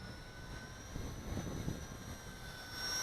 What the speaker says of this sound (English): it's still a helicopter and there's a lot of moving parts